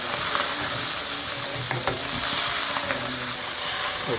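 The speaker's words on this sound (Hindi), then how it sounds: "मिर्चें भी डाल के हमने भून लिया।" Red chilies and minced meat for qeema fry steadily in a pan with a bright, constant hiss, broken by a few scraping stirs.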